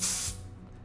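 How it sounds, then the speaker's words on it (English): Air hisses briefly out of a latex twisting balloon being shaped into a sword, a short loud spray-like rush that cuts off after a moment, leaving quiet. "Go ahead and let a little bit of air out of your balloon"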